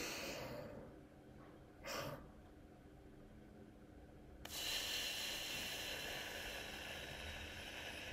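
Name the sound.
physiological sigh: two-part inhale, long exhale as through straw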